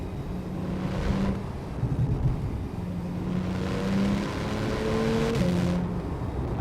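A 2015 Porsche 911 991.1 Turbo S with all-wheel drive accelerates hard through the gears, its engine note climbing in pitch with clear shift breaks, under steady wind rush from inside the car.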